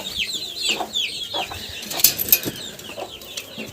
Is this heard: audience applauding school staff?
no